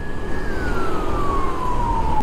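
An ambulance siren sounds on a road in Depok, a steady wail whose pitch slides downward as it passes close by, heard over engine and road rumble from a motorcycle ride.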